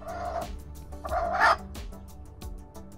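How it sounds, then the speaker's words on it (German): A broody hen clucks close by in a run of low, throaty clucks with short louder cackling bursts between them, and no people talk. "Zusätzlich wird sie meistens auch noch Gluckgeräusche von sich geben."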